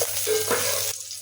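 Garlic frying in oil in a rice cooker pot gives a dense, steady sizzle with some stirring scrapes, close and loud, easing off slightly near the end.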